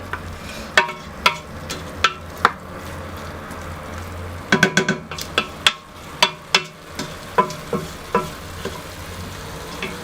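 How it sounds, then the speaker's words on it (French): Meat and onion for Algerian chorba are stirred in a pot over a steady frying sizzle, with repeated sharp scrapes and clinks of the spoon against the pot, a quick cluster near the middle. "Donc je mélange par quelques fois."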